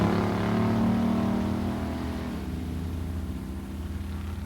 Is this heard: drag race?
yes